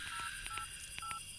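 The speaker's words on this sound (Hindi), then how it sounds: "फोन करके तो देखो।" Telephone keypad dialing tones, a quick run of short, evenly spaced beeps, each a clear dual tone, alone over a faint steady background hum.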